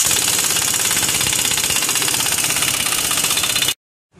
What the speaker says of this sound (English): Air tools make it a whole lot easier.